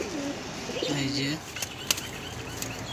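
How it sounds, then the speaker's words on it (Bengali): Caged pigeons flap their wings in a short, close burst while someone speaks briefly, with a few sharp rustles and taps afterward. "খুব সুন্দর একটা কবুতরের খাঁচা আড্ডা নর কবুতর"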